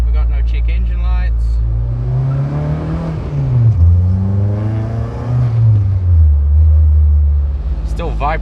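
A K-swapped Honda CR-V (RD1) engine revs up and down several times, a loud, close rumble that rises and falls in pitch, with a person speaking briefly.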